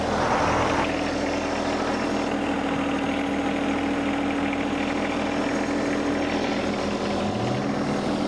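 A tractor's diesel engine idles and drones steadily at close range, a constant low mechanical hum with no voices.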